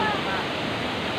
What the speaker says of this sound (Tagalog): see the second falls